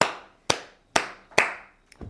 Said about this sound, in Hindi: बजाइए तालियां